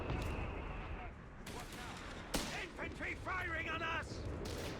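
Machine-gun bursts and artillery fire from the Company of Heroes 3 strategy game, a 1v1 British-versus-German match, crackle under steady commentary, with a sharp blast near the middle and rapid rattling volleys following.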